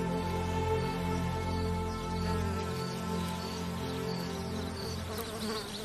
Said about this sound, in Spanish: Las avispas hacen sus nidos en zonas protegidas del viento.